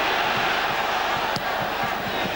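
A 50,000-strong crowd at the National Stadium in Santiago roars during the Copa América final between Argentina and Chile amid torrential rain, a loud, continuous wall of chanting and cheering with rhythmic pulses.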